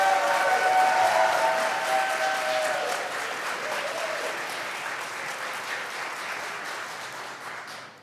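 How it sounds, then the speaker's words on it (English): Audience applause ringing out at a youth entrepreneurship challenge as people vote for a contestant, a sustained burst of clapping that fills the room and slowly thins and fades toward the end. "please give a round of applause"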